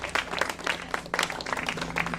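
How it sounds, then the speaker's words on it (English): A short burst of applause from a small gathering at an awards event, fairly faint and uneven, with scattered claps rising and falling. "Also have a round of applause for yourselves."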